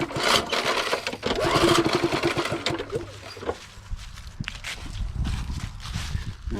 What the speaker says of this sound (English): I'm going to pull over a few cranks as well without the plug-in